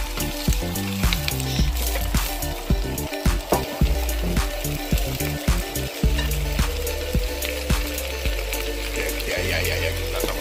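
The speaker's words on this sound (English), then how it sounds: "So we're just steaming down some vegetable." Cabbage and carrots sizzling and frying in a pan with a little water, a steady crackling hiss with sharp pops and clinks running the whole time, loud and close.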